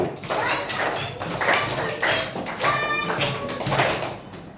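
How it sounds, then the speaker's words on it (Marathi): Scout and Guide group clapping in unison, a rapid patterned rhythm of many hands clapping together at close range, carried on steadily for several seconds with some voices mixed in. "त्याबद्दल सर्वांनी यांच्यासाठी टाळ्या वाजवायला पाहिजे. स्काउट गाईड क्लॅप गो."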